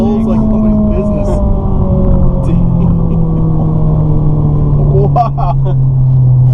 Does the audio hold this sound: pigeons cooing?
no